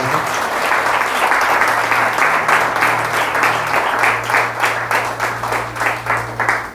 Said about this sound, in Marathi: एकदा जोरदार टाळ्या त्यांच्यासाठी वाजवा